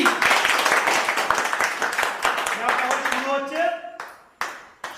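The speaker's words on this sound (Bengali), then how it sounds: "সবাই সুমির জন্য একটা জোরে হাত তালি" An audience claps for a contestant named Sumi at a bottle-flip prize game, with dense, steady applause that thins out toward the end, leaving a few scattered claps and some talk.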